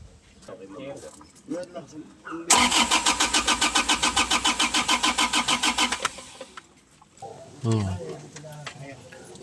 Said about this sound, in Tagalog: Engine 1 start.